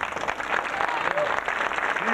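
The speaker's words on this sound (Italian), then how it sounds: "vorrei che accogliete con un bellissimo applauso i premiati di questa sera" Warm audience applause greeting award winners at a 1990 poetry prize ceremony in Chiesina Uzzanese, continuous dense clapping from a seated crowd, steady and moderately loud.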